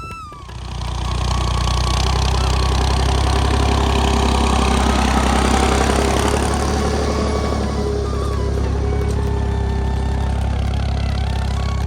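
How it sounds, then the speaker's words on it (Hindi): A tractor plowing a field in a remote mountain village, its engine rumbling steadily up close and low, a continuous drone that swells in after a moment and holds with little change. "यहाँ पर ट्रैक्टर से जो है ना हल चलाया जा रहा है"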